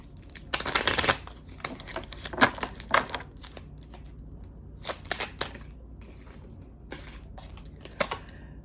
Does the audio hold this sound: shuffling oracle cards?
yes